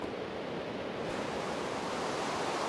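Water flowing in Minecraft, a steady broadband rushing wash that holds at an even, moderate level throughout with no voices.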